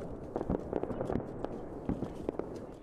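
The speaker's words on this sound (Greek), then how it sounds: "Τα πυροτεχνήματα φώτισαν τον ουρανό πάνω από την Ακρόπολη" New Year fireworks burst over the Acropolis in Athens, a scatter of irregular pops and crackles at moderate distance over a steady crowd-like rumble, with no clear talk.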